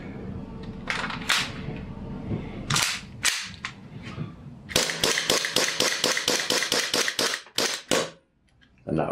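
An HPA airsoft pistol fires in sharp, close snaps, first as a few scattered shots and then as a quick, evenly spaced string of a dozen or so cracks before a brief pause.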